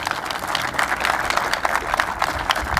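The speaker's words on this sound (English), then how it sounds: "Let's give them all another round of applause." Audience at a groundbreaking ceremony giving a round of applause, steady loud clapping from many hands filling the space throughout.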